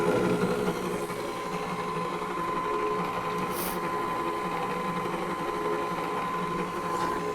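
A Kenmore Ovation 5-quart stand mixer runs steadily on its own, a continuous motor whir with a faint mechanical rattle holding an even level throughout, close by, with no talking.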